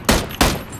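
Gunfire in the PUBG battle royale game: two sharp, loud shots fired about a third of a second apart, each followed by a short decaying tail.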